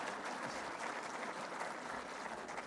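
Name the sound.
audience applause at speech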